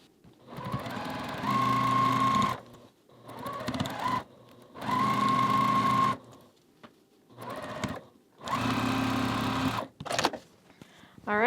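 Sewing machine stitching quarter-inch seams on Ohio Star quilt block pieces, running in four or five steady whirring bursts of a couple of seconds each, separated by short pauses, close and clear with no talking.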